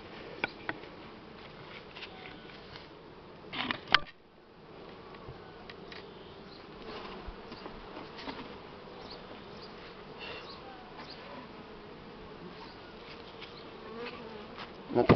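Honeybees buzz in a dense, continuous swarm around an opened hive during a honey harvest, with a sharp knock partway through and scattered close fly-bys over the steady drone.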